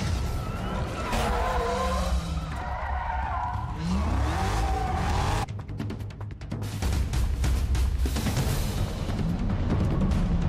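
A Ford Mustang is pushed in second gear through a tight course of cones, its tires squealing and skidding loudly and close by over a hard-working engine, with a short lull midway before the squeal returns.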